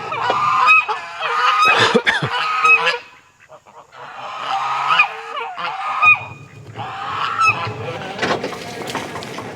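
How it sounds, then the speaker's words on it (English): Geese honk loudly and repeatedly in overlapping bursts in a pen shared with ducks, close by, with a brief lull midway before the noisy chorus resumes. "So Quacker Jack and Jean are in with the geese, with the shenanigan quackheads."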